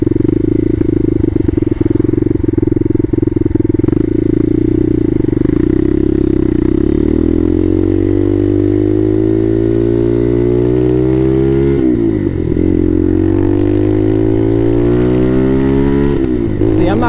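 Bashan Motomax 250 motorcycle with a Nibbi PE30mm carburetor, its single-cylinder engine loud and close, revving in long rising pulls with brief throttle dips and climbs, a continuous steady drone throughout.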